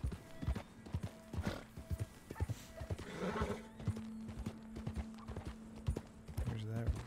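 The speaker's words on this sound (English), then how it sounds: "Horses." Horse hooves clip-clop in a steady rhythm in the video game Red Dead Redemption 2, with a horse neighing partway through; a voice speaks briefly over it.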